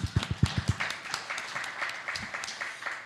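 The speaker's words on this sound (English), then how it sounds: "Round of applause for David Bigelow IV." A short burst of applause from a small conference session audience, sharp claps at first that quickly thin into scattered, softer clapping.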